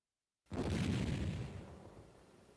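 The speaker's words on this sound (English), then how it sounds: "the artillery rounds that have been exploding upwind contained nerve agent" Artillery rounds exploding upwind in a nerve-agent demonstration: one deep boom erupts after a moment of silence and then rumbles away over the next two seconds.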